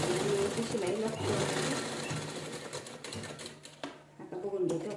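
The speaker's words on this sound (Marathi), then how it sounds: "पूर्ण राऊंड छान असं स्टिच करून व्यवस्थित शिलाई लागतो." A sewing machine hums and rattles continuously at close range while stitching a round seam on old shirt fabric, slowing briefly near the end before running again.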